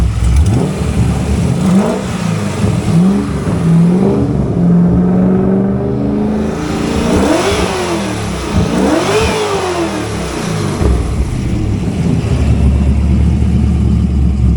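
A 2002 Chevrolet Corvette with a swapped LS3 V8 runs loud and close, its engine note rising and falling through several throttle blips and revs over a steady rumbling idle, with no talking.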